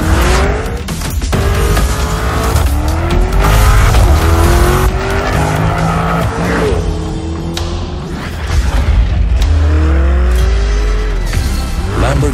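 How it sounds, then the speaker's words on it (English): Lamborghini Urus super SUV driving hard, its engine revving and shifting through gears with rising and falling pitch, tires squealing at moments, loud and close throughout. "Lamborghini introduces Urus. The super sport utility vehicle is no longer impossible"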